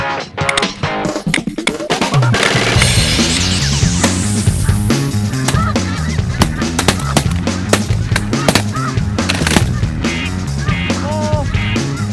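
A dense, loud chorus of honking snow geese fills the air continuously during a goose hunt, with sharp shotgun-like bangs mixed in throughout.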